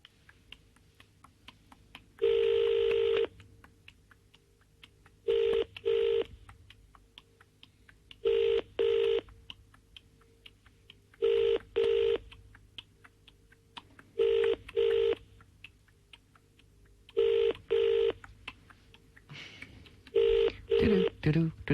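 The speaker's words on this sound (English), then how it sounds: "I'm going to dial the first number" A telephone number is dialed on a radio show, giving a steady series of short DTMF beeps in small bursts, some single and some paired, clear and close over a faint background.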